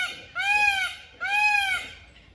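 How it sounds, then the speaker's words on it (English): Two loud, drawn-out wailing calls from a peacock at Hope Zoo in Jamaica, each about half a second long with a rising then falling tone, close by and separated by a short pause. "That's the peacock up there making noise."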